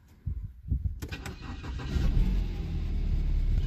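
A BMW N43/N53 engine starts and settles into a steady idle after piezo injector replacement and coding. A few cranking bursts build into a continuous close running drone.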